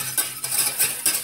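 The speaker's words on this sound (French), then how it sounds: "Je mélange" A spoon stirs a lemon juice and saffron mixture for a lemon cream tart, making four or five soft, rhythmic scraping sweeps against the bowl, close and clear with no talk.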